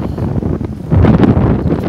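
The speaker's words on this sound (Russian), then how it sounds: "ой, ветер сумасшедший" Strong wind buffets the microphone in loud, gusty rumbling bursts on a street of restaurants and terraces in Roseto, growing heavier midway through.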